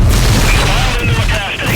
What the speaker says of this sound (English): Gas pumps have ignited